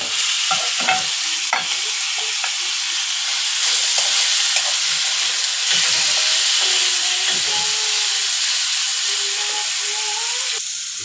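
Steady sizzling and frying of onions and tomatoes sautéing in a pan with occasional stirring scrapes, continuous and close, no talking.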